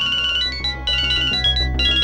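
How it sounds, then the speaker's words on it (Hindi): A phone ringtone plays a repeating electronic melody, steady and fairly loud, with no voices over it. "फोन उठाओ।"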